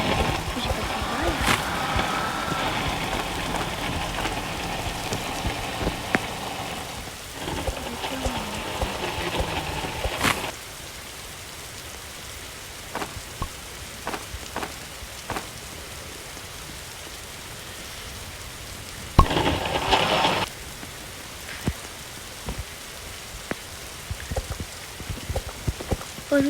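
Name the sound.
rain falling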